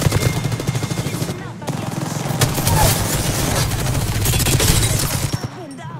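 Rapid automatic gunfire in the Apex Legends video game, loud and close, with fast bursts running almost continuously over six seconds and only a brief gap near the start.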